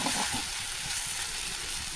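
Oil sizzling in a pan while fish cooks, a steady close hiss spread evenly throughout with faint soft bubbling underneath and no talking.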